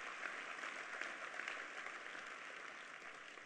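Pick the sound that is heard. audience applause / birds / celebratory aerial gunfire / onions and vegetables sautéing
audience applause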